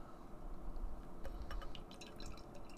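White Russian–style milk stout pours into a tulip glass, thick, dark and with barely any head, making a soft steady gurgle of liquid with small splashy drips and glassy clinks, quiet and close, with no talking.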